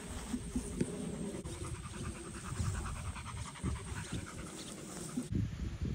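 A dog pants rapidly and rhythmically close by outdoors in Puerto Rico, a steady run of quick breathy huffs with no talking.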